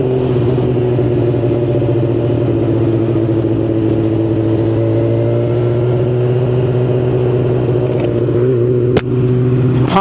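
Car engine running steadily with a loud, continuous low drone and slight rise in pitch while driving in traffic in Timisoara; a brief sharp click near the end, no talk.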